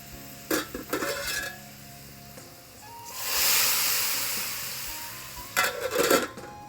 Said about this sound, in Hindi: ये देखें ये बघार हो गया मेरा तैयार, और कितनी प्यारी आवाज़ आएगी अभी इसकी।